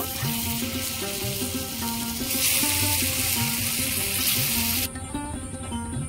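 Jackfruit seeds fry in hot oil, a constant hiss that swells louder midway and then drops abruptly, with a tonal musical hum running underneath and no speech.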